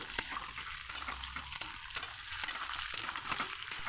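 Bitter gourd and potato curry stirred in a pan, soft frying sizzle with rhythmic scrapes and taps of the spatula repeating every half second or so, fairly quiet and close.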